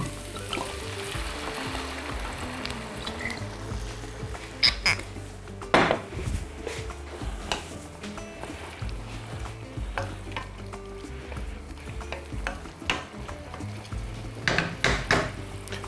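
Red semi-sweet wine hitting sizzling meat in a pan, a constant crackling fry broken by sharp utensil clanks and stirring knocks.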